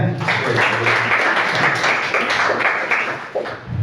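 A room full of people clapping for a participant, a dense patter of applause that holds steady and then thins near the end.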